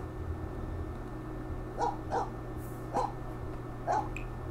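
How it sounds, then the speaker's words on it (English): A puppy in The Sims 4 yaps four short, faint barks in a loose rhythm over a constant low game hum. "He barking at our tree."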